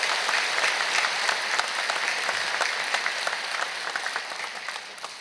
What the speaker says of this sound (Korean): 크게 박수로 환영하시지요